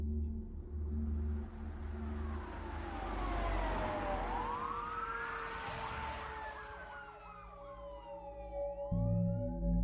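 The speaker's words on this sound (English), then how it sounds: "he heard sirens approaching through the woods" Wailing sirens of emergency vehicles, police and ambulance, approaching through woods toward a mobile home, rising and falling sweeps that grow louder and overlap, with engine rumble underneath.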